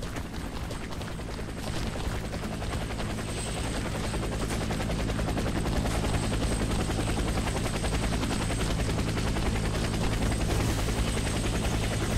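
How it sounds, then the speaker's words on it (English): Steady, loud rotor drone of an approaching helicopter in Warface with a constant mechanical whine, occasional rapid bursts of distant gunfire layered beneath. "Helicopter is inbound."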